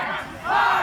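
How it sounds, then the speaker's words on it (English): Fans of a Vancouver quidditch team, the Storm Crows, cheer and shout in a short loud burst at a tournament match, the crowd's roar swelling toward the end. "So you got the Stormcrows cheering."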